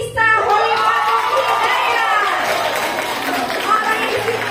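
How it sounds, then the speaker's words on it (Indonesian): Audience at a digital empowerment event for Indonesian migrant workers in Hong Kong cheering and shouting for a mini project contest winner, a loud, sustained crowd roar with excited voices throughout. "kita kasih tepuk tangan yang meriah untuk Anissa Holiwati"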